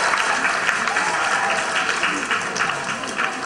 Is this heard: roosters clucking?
no